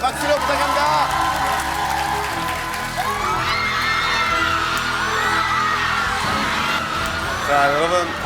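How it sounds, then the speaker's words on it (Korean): Lively audience at a school economics concert with high-school students claps, cheers and shouts as a lecturer is introduced, a loud continuous crowd roar with music-like tones underneath. "박수로 부탁합니다"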